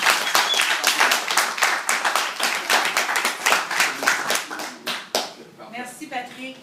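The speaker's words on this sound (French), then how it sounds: "j'aimerais ça que vous leur donnez une bonne main d'applaudissement" Audience at a success-themed event applauding models, a dense steady burst of clapping that thins and fades out near the end as a voice begins speaking.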